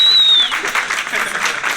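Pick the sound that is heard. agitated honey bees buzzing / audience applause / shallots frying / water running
audience applause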